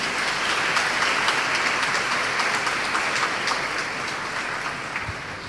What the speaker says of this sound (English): Let us welcome Dr. Karthikeyan with a round of applause.